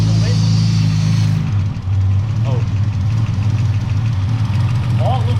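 A party bus engine idles steadily and loudly right after a new water pump was fitted, its low rumble continuous throughout, with people talking and cheering over it.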